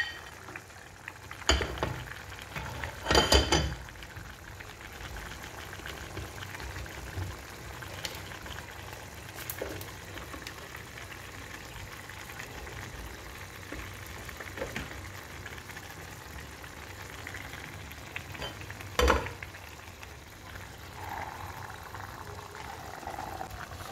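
Vegetable stew with crayfish simmering in a pot, a steady low bubbling and sizzle running throughout with a few sharp clatters of utensils against the pot near the start and again later.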